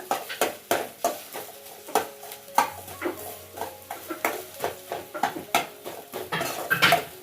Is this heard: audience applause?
no